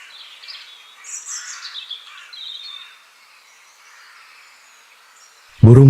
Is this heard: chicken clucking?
no